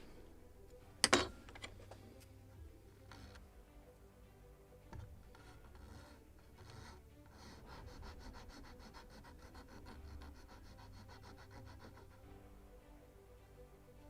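A wooden part of a Model Shipways kit for the 1776 gunboat Philadelphia being filed to bevel its edge, a faint, soft rasping close by after a sharp knock near the start.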